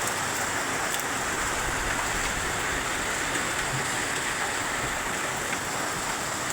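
Heavy rain pours steadily in Chennai as a dense, continuous hiss with no letup, close and fairly loud, with no voices.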